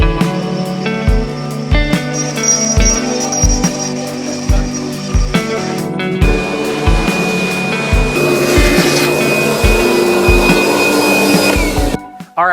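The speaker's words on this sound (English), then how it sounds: "Now I'm gonna stick that 3/16 bit back in there and actually cut everything out." A CNC router with a 3/16 bit cuts out a wooden inlay, its loud, steady whine running throughout with rhythmic regular thumps and a shifting pitch as it moves, stopping abruptly near the end.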